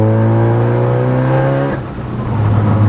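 A Ford Focus ST turbo engine revs hard at full throttle, its pitch climbing steadily, then briefly dips as with a gear change into third before pulling again, loud and close.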